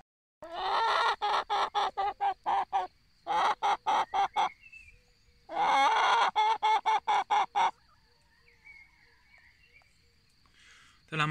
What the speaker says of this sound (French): Et elles me paraissent tellement énormes ces poules par rapport aux 3 petits poussins.